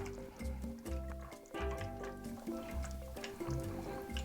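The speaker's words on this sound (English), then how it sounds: "So I'm going to give this a stir." Pasta sauce and meat are stirred in an Instant Pot, giving thick, wet squelching and sloshing strokes in a steady rhythm, close and fairly quiet.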